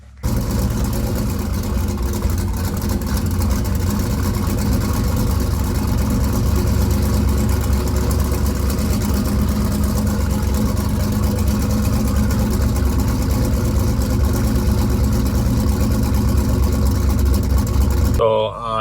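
A 106mm turbo Buick Regal engine drones steadily while driving, a loud continuous low rumble heard from inside the car for the full length, with faint talk underneath.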